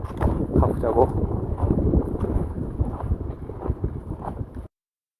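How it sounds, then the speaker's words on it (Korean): Footsteps crunch along a snowy mountain trail in very strong wind, a steady rough shuffle of boots on snow close to the microphone, with wind noise buffeting throughout. "눈길 걷는 소리"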